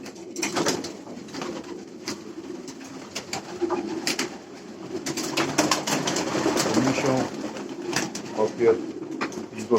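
Racing pigeons coo steadily around a pigeon loft, a soft continuous murmur of several birds with occasional sharper clicks and wing rustles close by.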